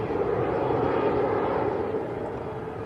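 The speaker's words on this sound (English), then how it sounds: "That was Ryanair to Almeria, just getting airborne." A Ryanair jet lifts off from Manchester Airport, a continuous mid-heavy engine rumble at moderate distance that stays even before tapering a little at the end, alone without speech.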